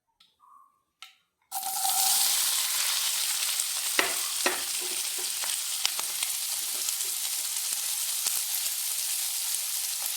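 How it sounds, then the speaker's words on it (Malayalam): Chopped spring onion stalks hit hot oil with mustard seeds in a pan after a few faint clicks, setting off a loud, continuous sizzle with scattered crackles and pops. "നമ്മൾ കടുക് ഇട്ടിട്ടുണ്ട് നമ്മൾ തോരൻ അരിഞ്ഞു വെച്ച ഉള്ളിത്തണ്ട് നമുക്ക് ഇട്ട് കൊടുക്കാം"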